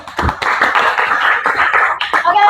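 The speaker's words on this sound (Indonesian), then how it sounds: "Ya, tepuk tangan dulu." A classroom applauds, with dense, fairly loud clapping from many hands that continues steadily throughout.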